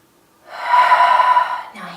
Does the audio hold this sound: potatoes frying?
no